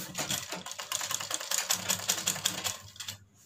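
A sewing machine stitches a fabric strip onto a baby girl's hanky-cut frock, a steady rapid clatter running continuously and fairly quiet, stopping at the end, with no talking.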